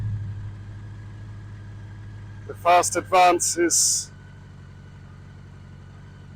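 A BMW K100 motorcycle engine idles steadily with a low, even hum, freshly running after an over-fueling fix; someone talks loudly over it midway, and the idle carries on beneath.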